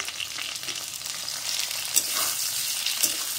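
Deseeded tomato fries in a pan for egg curry, giving a steady close sizzle and crackle with faint stirring scrapes and no talk.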